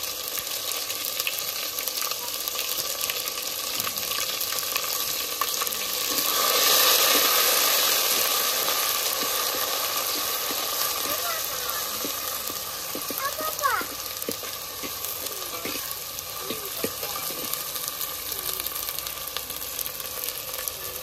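Onion, ginger, cumin, garlic and black pepper paste fries for chicken curry, a dense continuous sizzle and hiss that swells briefly, with faint scraping of stirring throughout.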